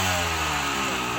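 Motorcycle engine revving steadily at night, a loud, continuous buzzing drone that holds at a constant pitch throughout, close by, with no talking.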